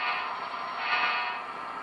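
A Spectrum/Bachmann Dash-8 model locomotive fitted with a DCC sound decoder idles, a steady tinny diesel drone with a buzzy tonal edge from a small speaker, holding level for about two seconds with nobody talking.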